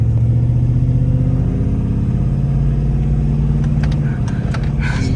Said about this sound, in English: It revs up higher because I have a 2800 RPM stall converter